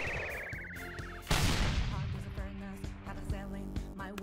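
Persona 5 Royal battle: a descending whistle ends in a heavy blast, followed by a rattle of rapid gunfire and scattered pops, loud and close, mixed with game music and voice.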